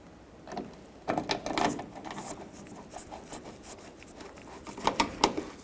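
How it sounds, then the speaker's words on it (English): Phillips screws are loosely driven into a door latch on an Acura MDX, giving short bursts of close ratcheting, rubbing and scraping. The sounds come in a few clusters with brief pauses between them. "We're going to take our Phillips screws and just loosely tighten that back up."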